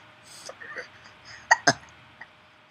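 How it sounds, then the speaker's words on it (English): A dog hiccups a few times at close range, two sharp jerky spasms standing out among softer breathy sounds, with faint human voice nearby. "You get the hiccups?"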